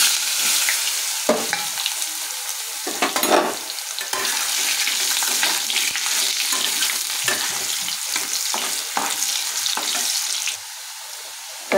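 Sliced onion crackles in hot oil with cumin, bay leaf and frying potato, a steady loud sizzle broken by repeated scrapes and clinks of stirring, dropping slightly quieter near the end.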